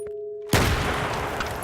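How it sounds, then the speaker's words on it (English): In a video game, a sudden loud blast erupts after a brief quiet tone, followed by sustained dense crackling and rumbling like rapid gunfire and stock explosions. "fire, stock explosions"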